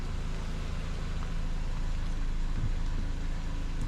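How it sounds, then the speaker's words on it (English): Ford Fusion 2.5L engine running steadily at close range, a continuous low rumble that holds fairly even with no sharp rev spikes. "Give it some gas."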